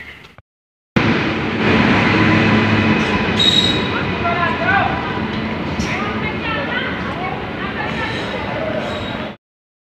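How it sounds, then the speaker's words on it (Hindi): A train rumbles through a railway station, a loud continuous rolling roar with rattling and faint wheel squeals, cutting off abruptly near the end. "रेलवे स्टेशन पर पहुंच चुके हैं, अब रेल से जाएंगे"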